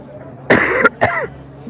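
Two harsh coughs close to the microphone, caused by chemical smoke in grass outside the Broadview, Illinois detention center, a longer one followed quickly by a shorter one, against a quiet background.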